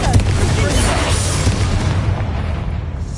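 A Confringo fire spell explodes in the video game Hogwarts Legacy as one loud, close, deep boom that then rumbles and fades out over a few seconds.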